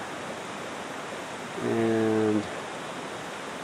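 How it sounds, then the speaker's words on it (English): Floodwater from an overflowing creek rushes down a washed-out road, a steady broadband roar that runs the whole time, with a short droning tone rising over it midway. "Basically what we got here is the creek back there, when it flooded, overflowed,"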